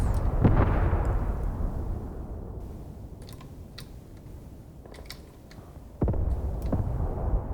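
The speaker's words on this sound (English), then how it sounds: "my mortars have completed their fire mission" Mortar rounds landing in the wargame Graviteam Tactics: a heavy blast that rolls off into a long fading rumble, a few sharp distant cracks, then another loud impact near the end.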